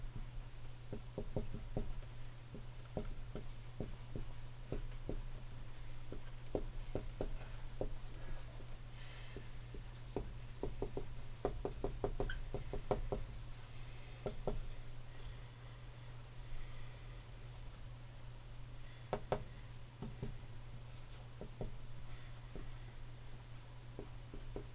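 Marker or chalk strokes on a board during a circuits lecture on Ohm's law and resistivity, a run of short scratchy taps over a steady low room hum, no talking.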